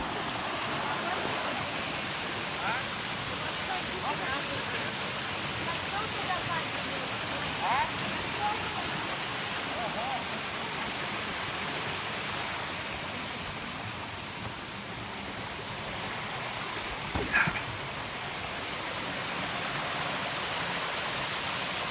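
Agura waterfalls near Sochi pour in a steady, dense broadband rush of falling water, with a few faint clicks and splashes over the constant roar.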